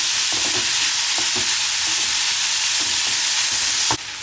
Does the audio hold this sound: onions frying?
yes